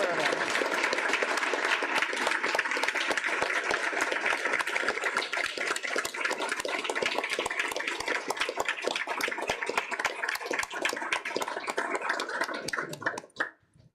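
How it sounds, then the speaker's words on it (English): Sustained applause fills a trustees' board meeting hall, dense and steady for several seconds before cutting off abruptly. "let's give Miss Bush another great big round of applause"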